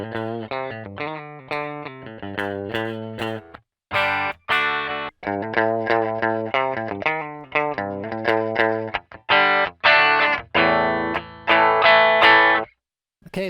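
An electric guitar riff played through a Mooer M701 tone capture of a Telecaster, with short choppy picked notes and chords, bright and slightly overdriven with a chorus-like sheen, in bursts separated by brief pauses and no voices.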